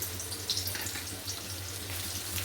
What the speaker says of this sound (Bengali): এবার আমি কেটে রাখা পেঁয়াজগুলো দিয়ে দেবো।